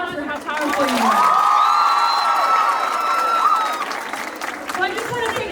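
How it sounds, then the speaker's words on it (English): A school audience in Kenya breaks into loud, sustained applause and cheering, with high whoops and children's shouts rising over the clapping for several seconds before tapering off. "Now give yourselves a round of applause for how powerful you are."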